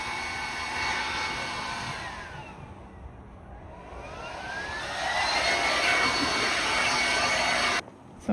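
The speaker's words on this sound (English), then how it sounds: "we carry a small blower, really small, it's like this small, works really well" Small cordless blower on a DeWalt 20-volt battery, a steady close whooshing whine that dips and swells in pitch as it sweeps past, then cuts off abruptly near the end.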